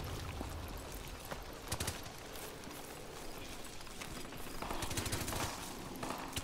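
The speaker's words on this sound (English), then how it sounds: "Shots fired, shots fired." Continuous gunfire in Call of Duty: Modern Warfare, rapid machine-gun bursts and scattered single shots at moderate loudness, with heavier volleys near the end.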